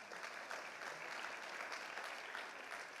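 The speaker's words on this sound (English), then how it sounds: "Give yourselves a round of applause." Steady, dense applause from a large crowd, continuous and loud for the whole stretch with no voices rising above it.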